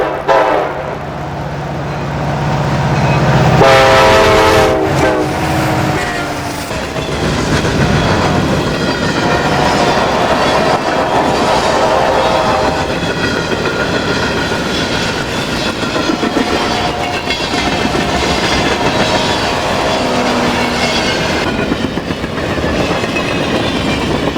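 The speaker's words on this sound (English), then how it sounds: "catch this westbound mixed freight from Pittsburgh to Chicago running at track speed, behind two of those handsome white-faced 70 Maxes" A Conrail westbound mixed freight train from Pittsburgh to Chicago, led by two white-faced SD70MAC locomotives, passes loud and close at track speed, with a horn blast and engine roar, then a long steady rumble and rhythmic clatter of cars.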